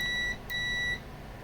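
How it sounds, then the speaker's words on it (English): Two steady high-pitched electronic beeps from a circuit tester checking a BD139 NPN transistor sound in quick succession, the second longer, clear and close over a faint background hum. "it beeps"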